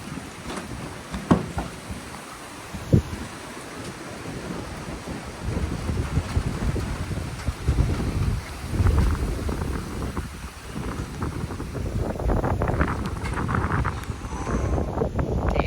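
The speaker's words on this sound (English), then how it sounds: "This is some cool wind, bro. I love wind like this." Strong gusting wind after a storm roaring through trees, rumbling low buffets against the microphone building and easing over the stretch, with a couple of sharp knocks early on, loud and continuous outdoors.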